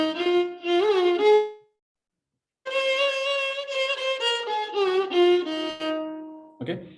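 Ascending then descending scale of the Carnatic raga Chittaranjani, a single melodic line of sustained, ornamented notes with a short pause between the rising and falling runs, close and clear with no talking.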